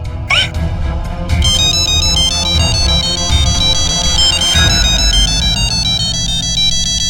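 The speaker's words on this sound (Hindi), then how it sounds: "उषा दीदी का फोन है, मुझे काम पर जाना होगा।" A phone ringtone plays continuously at close range, a repeating bright melodic pattern over a steady low background bed of sound.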